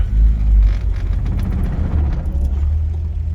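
A 1948 Chevrolet Fleetline two-door sedan pulls away with its engine running, a loud, steady low rumble and whir close by, with no voices.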